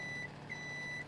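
Reversing beeps from a truck in Farming Simulator 17, a steady high tone repeating in a few pulses over a low engine hum, fairly faint and with no talk.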